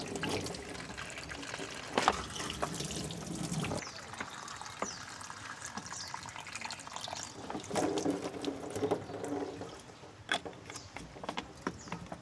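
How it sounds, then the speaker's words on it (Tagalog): Water pours into a container at a seaside campsite, a continuous splashing, gurgling flow close by that shifts in tone as it fills, with occasional knocks and handling noises. "pupunuin natin ng tubig"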